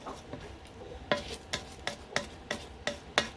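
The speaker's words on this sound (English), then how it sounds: "Give that a stir." A spoon stirs instant rice into the liquid of a cheesy chicken and broccoli rice casserole, seven or eight sharp scraping strokes in a steady rhythm, close and fairly quiet.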